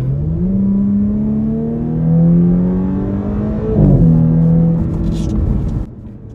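A 2018 Audi S5 Sportback engine accelerates loudly, rising in pitch through a gear change, with a few short pops and crackles from the exhaust as it settles.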